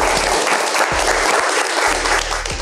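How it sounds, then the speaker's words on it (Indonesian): Audience at a youth forum discussion applauding, dense loud clapping sustained throughout, with a low hum underneath. "Boleh dong tepuk tangannya."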